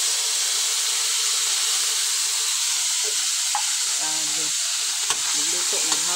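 Potatoes and corned beef fry in hot oil, spattering loudly and continuously with a dense hiss that fills the whole stretch, with a few sharp pops and light clinks near the end.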